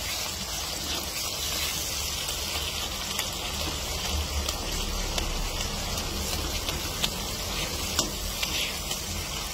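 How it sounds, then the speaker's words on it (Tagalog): Tomatoes fry in a pan with a steady, busy sizzle and crackle that holds at an even level throughout, close up with no voices. "Lutuing mag-iigi ang kamatis."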